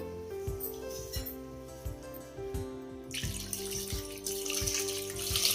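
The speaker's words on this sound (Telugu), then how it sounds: "కొంచెం నీళ్ళు పోసుకుందాం." Water pours steadily into a metal pot for tomato rasam, the stream growing louder and brighter partway through, with faint rhythmic clinks underneath.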